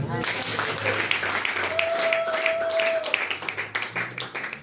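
A church congregation clapping and acclaiming the Lord, dense applause mixed with shouting voices and a sustained tone, loud and close throughout.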